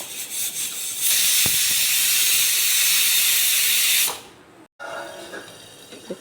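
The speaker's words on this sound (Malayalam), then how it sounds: "ആവി പോയതിന് ശേഷം കുക്കർ തുറക്കാം" Steady, loud hiss of steam escaping from a pressure cooker after the gas is turned off, lasting several seconds, then tapering off and stopping, followed by quieter kitchen noise.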